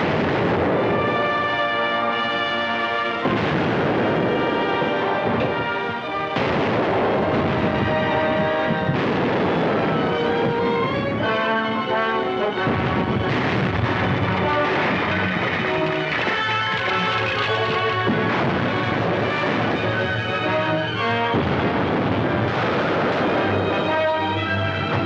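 Ship cannons firing in a naval battle scene from a 1936 war film, repeated heavy booms and rumbling blasts over a continuous orchestral score, loud and sustained throughout.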